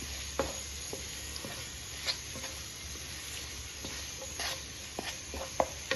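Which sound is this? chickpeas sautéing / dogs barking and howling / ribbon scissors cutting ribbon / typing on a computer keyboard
chickpeas sautéing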